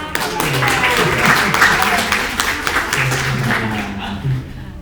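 Students in a university lecture clap together, a full and steady round of hand claps that tapers slightly near the end, with a voice speaking underneath.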